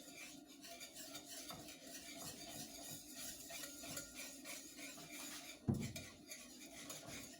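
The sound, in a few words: whisking bechamel sauce in a pot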